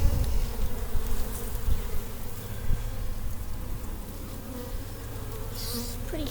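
Honey bees buzz steadily inside a hive built in a water meter box, a close, continuous droning hum with some scraping and handling noises underneath.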